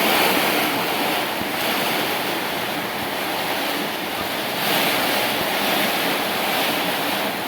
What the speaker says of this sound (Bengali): আপনারা দেখছেন কী পরিমাণ ঝড় বৃষ্টি শুরু হয়ে গেছে